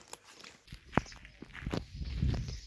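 Footsteps walking along an outdoor path to the beach: a handful of soft, uneven steps, close and fairly quiet, with a light rustle and no talking.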